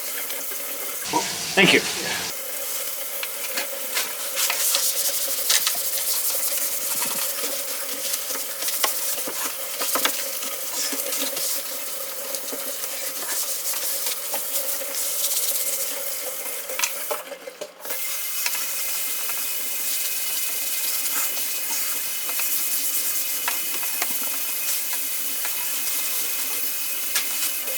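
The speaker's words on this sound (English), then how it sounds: "Just hot water, just let it run." Hot tap water runs steadily from a kitchen faucet into a sink with dish soap, a continuous rushing hiss lasting the whole stretch, with a brief thump near the start and a short spoken thanks.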